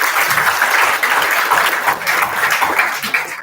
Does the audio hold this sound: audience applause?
yes